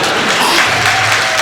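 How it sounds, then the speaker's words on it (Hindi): Audience at an outdoor Hindi kavi sammelan poetry gathering breaks into a short burst of dense clapping, fairly loud and continuous, with faint crowd murmur underneath. "इसलिए ताली बजा दीजिए।"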